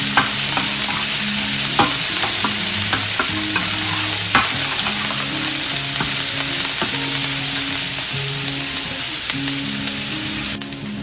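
Onions and garlic sauté in a pan over high heat, a continuous bright sizzle with the occasional scrape of stirring, alongside steady background music.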